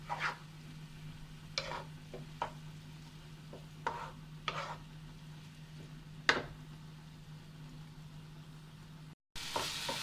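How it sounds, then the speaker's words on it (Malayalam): Diced apple for Kerala apple payasam is sautéed and stirred in a pan until its juice dries off, giving scattered scraping and tapping stirs over a low steady hiss, close and quiet, with no voices. "അതെല്ലാം ഒന്ന് വറ്റി സെമി ഡ്രൈ ആകണം. അതുവരെ നമുക്കൊന്ന് വഴറ്റിയെടുക്കാം."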